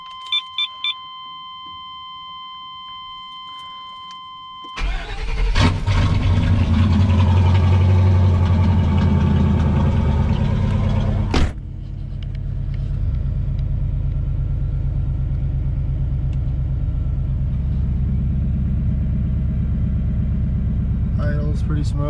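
A few electronic beeps, then a truck engine, just rebuilt, starts and runs with a loud rumble before settling into a steady, smooth idle outdoors.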